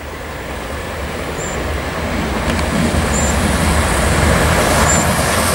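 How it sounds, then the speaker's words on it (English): An Electrostar electric train rumbles steadily through Preston Park station without stopping, the roar building as it passes, with faint high squeals from the rails. "Here comes an Electrostar."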